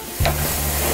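Oil bursts into a loud, steady sizzle as food hits a hot frying pan, hissing continuously up close.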